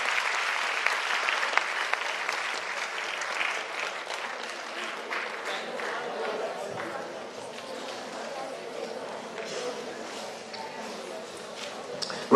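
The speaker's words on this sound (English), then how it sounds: "I think we need to give them a big round of applause" Sustained applause from an audience, steady clapping that gradually thins out, with some chatter mixed in.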